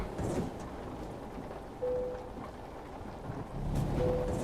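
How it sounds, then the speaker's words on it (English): Rain and rumbling thunder in the Euro Truck Simulator video game during a late-night drive, a steady wash of rainfall with low thunder swelling at the start and end, heard alone. "Can't steer in the rain."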